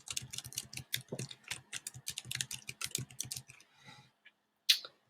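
Fingers type an email address on a computer keyboard in a steady run of close, crisp key clicks lasting a few seconds, thinning out near the end into a couple of isolated taps.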